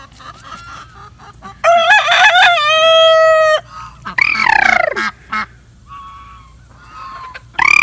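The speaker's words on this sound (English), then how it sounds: "I don't know why the turkeys get all flustered." Loud, flustered turkey gobbling in several bursts, harsh crowing and honking cries rising and falling, with quieter pauses between them.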